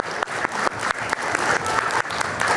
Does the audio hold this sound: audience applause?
yes